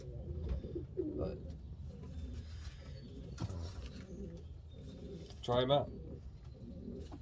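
Pigeons coo in a breeding loft, low throaty calls rising and falling near the listener, while someone speaks over them.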